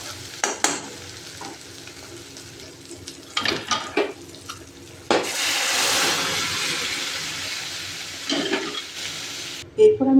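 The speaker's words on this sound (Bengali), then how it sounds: "এরপর আমি কিন্তু সিদ্ধ করে রাখা কলাইটা এর ভিতরে দিয়ে দেব।" Boiled black gram lentils tipped into a hot pan of oil, with clattering utensil knocks followed by a loud, steady sizzle and stirring scrapes, close and without speech.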